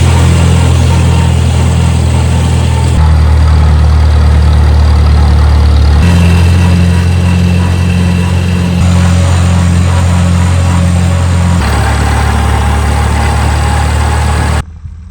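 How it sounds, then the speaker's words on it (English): A tractor engine idles while warming up for hay raking, a loud, steady low rumble close by that runs throughout with slight shifts in pitch, then cuts off at the end. "I got the tractor warming up"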